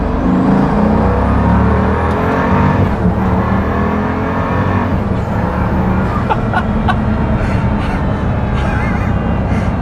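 A hypercar accelerating hard at speed, a loud continuous engine roar and whir with rising pitch sweeps that dip at gear shifts, steady and close throughout with no talk.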